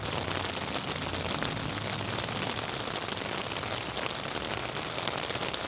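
Rain pours steadily onto a tarp shelter set up outdoors, a dense, even patter and hiss that holds without pause, close and loud, with no voices.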